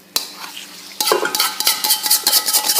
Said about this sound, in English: We are going to be continuing some stir frying in the wok.